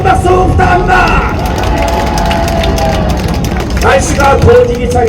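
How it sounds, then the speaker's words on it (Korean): A crowd at a political party rally in Busan cheers and calls out, with a loud wash of voices and applause that swells again toward the end. Shouting voices are mixed in throughout. "조순 회장님한테 다시 한번 큰 박수 부탁합니다."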